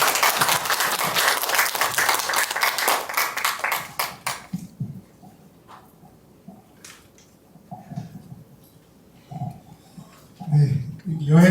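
Warm applause at a university research institute academic symposium welcomes the university president; dense clapping fades away within about four seconds, followed by a quiet hall with faint shuffling and brief indistinct voice sounds.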